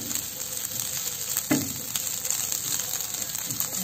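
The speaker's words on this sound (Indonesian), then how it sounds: "Terasi mentah, nah ini digoreng nanti matang." Raw shrimp paste (terasi) fries in a pan for sambal goreng ati, giving a continuous bright, crackling sizzle with a single clink of a utensil partway through.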